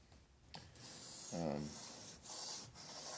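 A kitchen knife is sharpened on a waterstone, working the tip in faint, close, rhythmic scraping strokes.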